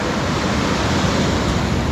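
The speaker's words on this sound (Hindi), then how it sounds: "वैसे नदी होती भयंकर नहीं है, मगर पानी ठंडा है ना।" Cold, glacier-fed mountain river rushing steadily nearby on a Himalayan trek, a loud, unbroken broadband roar of flowing water with no pauses and no voices.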